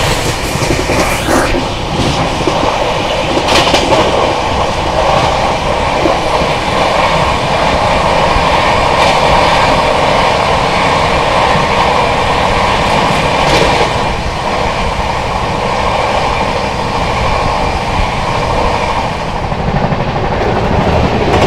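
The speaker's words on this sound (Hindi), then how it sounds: "रांची राजधानी। गजब रफ्तार में भाई, Delhi Kanpur section fire mode में।" The Ranchi Rajdhani Express on the Delhi–Kanpur section rushes past at high speed, a loud, continuous roar of rolling coaches with rhythmic wheel clatter sustained throughout, close by and without talk.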